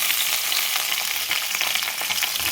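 Stuffed brinjal frying in a pan hisses and crackles steadily while being stirred, with the scrape of a spoon running through the sizzle.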